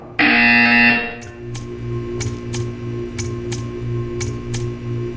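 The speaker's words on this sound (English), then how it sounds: "When you hear the buzzer, stare at the art." In the Portal 2 test chamber a loud electronic buzzer sounds for about a second, then gives way to a regular ticking pulse over a low steady hum that runs on to the end.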